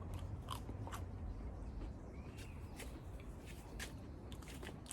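Crisp crunching bites into toasted bread, close up, with sharp irregular cracks repeating over a few seconds and no speech.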